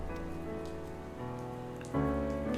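Steady rain falls in the video game Tennis Ace, a constant soft hiss of rain on surfaces under sustained musical tones that step up in loudness near the end.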